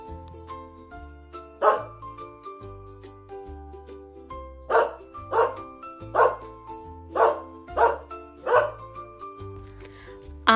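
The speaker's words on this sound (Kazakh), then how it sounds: "Ит үреді." A dog barks in a series of short, sharp bursts that repeat at a steady pace over cheerful children's background music with light jingles.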